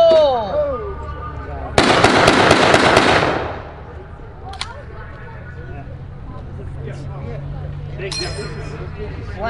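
Several M1 rifles firing blank rounds at a WWII encampment reenactment make a dense burst of loud, close cracking shots lasting about two seconds, then fade, with people talking before and after.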